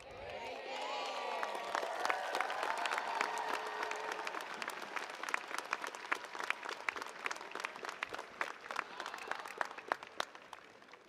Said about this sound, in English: Another round of applause for Mayor Dorcia Pliers.